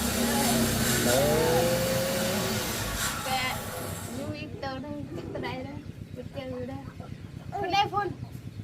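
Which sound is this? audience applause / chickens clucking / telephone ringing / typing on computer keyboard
chickens clucking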